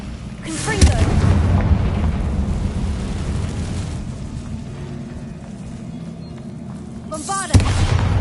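A fire blast spell cast in the Hogwarts Legacy video game, heard as a sustained booming roar with crackling and rumbling, closing with a sharp loud burst near the end, alongside game voices.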